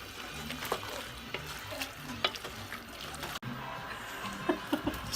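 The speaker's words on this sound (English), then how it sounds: "We're gonna check our meat again, and we're gonna turn it, or you know, I say turn it, but stir it." Steak pieces for enchiladas are stirred in a hot pan, with a low sizzle beneath repeated scraping and clacking of the utensil, close and moderately quiet.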